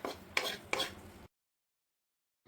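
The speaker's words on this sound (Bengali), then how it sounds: "তারপরে একটু ম্যাশ করে নিতে হবে" Soft, close scraping and pressing strokes of boiled potatoes being mashed in a pan for prawn and pointed gourd chop, a few quick pushes and then silence.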